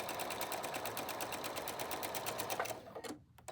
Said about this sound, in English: And then I'm going to continue sewing here.